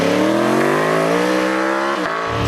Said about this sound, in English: I've never heard a bike that is just so beefy sounding